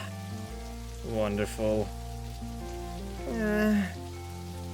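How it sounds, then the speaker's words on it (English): Steady rainfall in Necrobarista forms a constant wash beneath sustained music, while a voice speaks briefly over it. "Just try and enjoy the rain."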